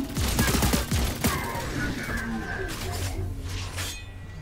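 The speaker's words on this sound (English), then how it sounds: "He has a shotgun." Heavy shotgun blasts from the Juggernaut in the video game LawBreakers, several quick booming shots packed into the first second, then fading into a busy game backdrop of tones and effects.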